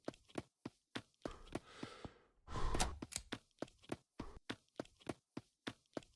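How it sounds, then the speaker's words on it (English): Heavy, rhythmic breathing in a video game, with sharp regular huffs and a longer drawn-out exhale in the middle, close and fairly quiet, with faint tapping steps mixed in. "What's that breathing?"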